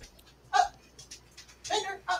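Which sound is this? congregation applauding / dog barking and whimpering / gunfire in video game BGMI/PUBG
dog barking and whimpering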